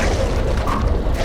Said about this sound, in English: Who wants some fireworks?